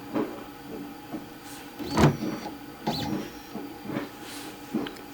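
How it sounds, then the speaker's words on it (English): A OneFinity CNC machine homes its x-axis with short whirring motor bursts that start and stop in an uneven rhythm, close by and moderately loud. "I'm going to home the x-axis."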